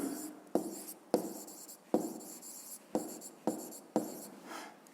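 Calculations being written on a board come through as six or seven sharp strokes at roughly even intervals, each a crisp tap followed by a brief scratchy trail, close and clear in an otherwise quiet room.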